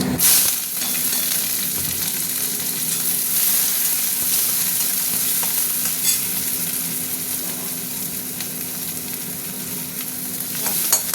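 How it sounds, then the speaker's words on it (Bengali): Onions sizzle in hot oil with dried chilli and bay leaf, a steady, close, dense frying hiss that carries on without a break and with no voices. "ভাজা ভাজা হোক, পেঁয়াজটা ভাজা ভাজা হয়েছে"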